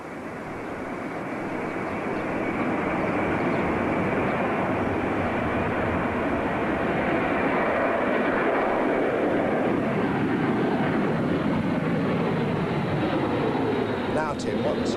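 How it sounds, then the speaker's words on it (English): Aircraft taxiing at Birmingham Airport, a loud, steady broadband engine roar that builds over the first two seconds and then holds continuously, close and dominant. "At Birmingham Airport, taxiing aircraft produced a peak reading of 90 dB."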